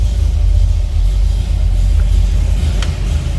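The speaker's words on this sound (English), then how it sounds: "so you can hear the 350, got a little rumble to it." A 1979 Chevrolet Corvette L82's 350 V8 idles up close with a deep, throaty rumble, low and constant throughout.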